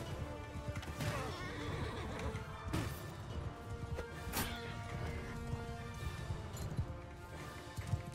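Horses whinny and neigh repeatedly amid galloping hooves and crashing clashes of a large Mount and Blade 2: Bannerlord battle, a dense, continuous din of mounted combat.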